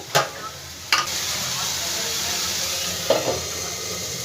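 A bread filling fries in a pan over a medium gas flame with a broad, steady hiss. Three brief clatters of utensil or lid against the pan cut through near the start and toward the end.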